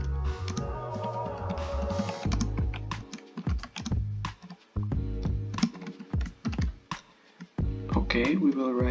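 Fingers type code on a computer keyboard in uneven bursts of crisp, close key clicks with brief pauses between runs.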